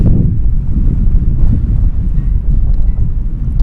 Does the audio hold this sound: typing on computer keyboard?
no